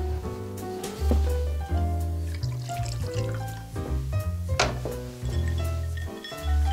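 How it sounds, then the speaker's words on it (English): A drink is poured in a 1964 Los Angeles home, with liquid trickling and splashing into a glass amid a few soft knocks, against a busy, tonal background. "I was just making a drink."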